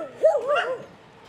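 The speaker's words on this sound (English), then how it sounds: "That's a lot of dogs. But they're all on chains" Several chained dogs bark and yip in a short, close burst of whining, rising cries that fade quickly.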